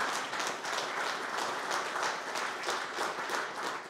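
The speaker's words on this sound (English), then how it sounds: "round of applause, ladies and gentlemen, for Ronald Wells for Cancom Security" Warm applause fills the hall at the Cancom Security Awards Gala 2022, many audience members clapping together in a dense, steady roar that holds for several seconds before easing off.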